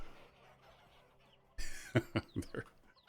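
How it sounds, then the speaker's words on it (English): In the video game Vintage Story, after a quiet start, a few short clucks from chickens in quick succession, fairly close and abrupt. "There's so many chickens."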